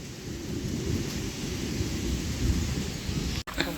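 Heavy rain pours steadily, with a low rumble of thunder running beneath it, loud and close throughout and with no voices.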